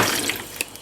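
Water pours steadily into a cooking pot in a home kitchen, a soft continuous splashing with a couple of small drips near the end, close by and alone.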